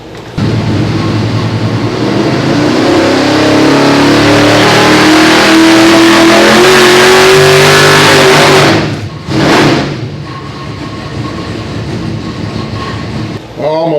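Nitrous-fed 632 cubic inch big block engine on a dyno, roaring loud and close with rising pitch through a long hard pull, then cutting off abruptly, a brief burst, and lower idling after.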